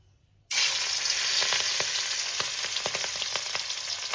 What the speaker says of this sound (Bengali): আমি মাছগুলোকে একটু হালকা এপিট ওপিট করে ভেজে নেব, কড়া করে ভাজবো না, একদম হালকাভাবে ভাজবো